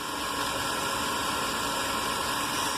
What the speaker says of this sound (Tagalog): umandar na yung unit, gumagana na yung makina